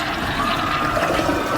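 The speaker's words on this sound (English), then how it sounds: "let's see if it will survive getting flushed" A household toilet flushing a small Lego boat, a loud continuous rush and swirl of water filling the short span without talk.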